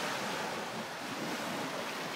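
Sea waves washing onto a Baltic-style shore, a steady broadband surf roar with gusts of wind buffeting the microphone, continuous and close with no talk.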